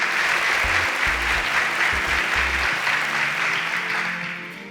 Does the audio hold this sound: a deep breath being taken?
no